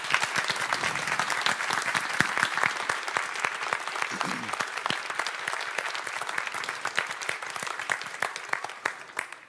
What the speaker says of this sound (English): Please, an applause for Urs Schürch.